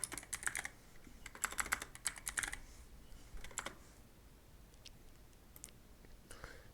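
Keys clatter on a computer keyboard in short bursts of typing with pauses between, quiet and close, with no talking.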